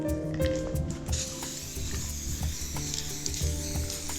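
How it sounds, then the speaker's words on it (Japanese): Clear coat spray hisses from an aerosol can onto a homemade DIY shop sign, a continuous airy hiss with faint clicks and rattles, close and steady throughout. "耐光性を上げるために、 クリアのスプレーを拭いていきたいと思います。"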